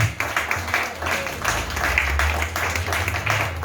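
A church congregation claps and cheers during a Sunday service, a steady wash of many hands applauding with voices mixed in, close and lively.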